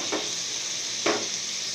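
Chopped ginger hits hot oil in a pan while frying chaomin-stuffed singhara, giving a soft, steady sizzle with two brief louder crackles as the pieces go in and get stirred.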